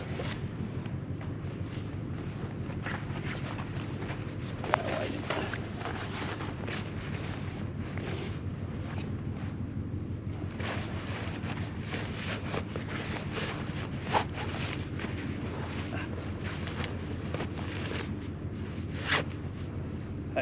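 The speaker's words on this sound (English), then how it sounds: "That noise you can hear is the ships." Ships near an estuary make a low, steady drone under constant wind buffeting the microphone outdoors, unbroken for twenty seconds with a few faint knocks and no talking.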